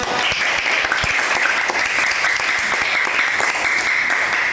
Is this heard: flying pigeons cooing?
no